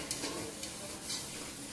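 Food cooking in a saucepan gives a steady, close sizzle with soft scraping stirs mixed in, and no one speaks.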